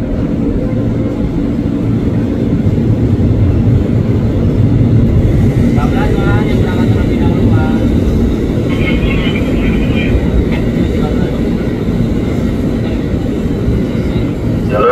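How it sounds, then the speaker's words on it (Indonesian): A KRL commuter train runs straight through track 3 on the upper level of Manggarai station, a steady loud rumble of wheels and motors sustained throughout, with a station announcement voice over it. "dari arah utara kereta api melintas langsung jalur 3"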